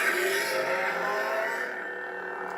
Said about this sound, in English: So this is the Corn Horn sound font, again by John Rossi